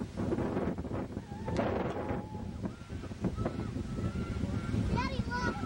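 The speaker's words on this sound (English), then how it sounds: "The sun's coming out a little, but boy, is it windy." Gusty wind buffeting the microphone on a breezy, partly sunny day near water with boats out, a steady rumble throughout while people talk and call out in the background.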